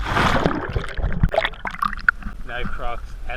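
Water splashing and sloshing as someone wades and swims in a natural rock swimming hole in the Kimberley, fairly close, with people talking over and between the splashes.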